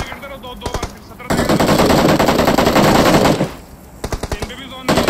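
Sustained automatic gunfire in the mobile battle-royale game BGMI, a dense loud burst lasting a couple of seconds with shorter bursts before and after, under players' voice chat.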